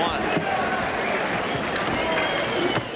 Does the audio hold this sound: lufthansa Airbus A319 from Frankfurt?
no